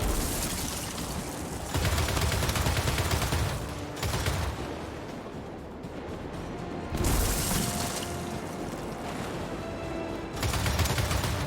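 Sustained bursts of heavy automatic gunfire from a mounted gun in Gears 5, loud rapid fire in long stretches separated by brief lulls.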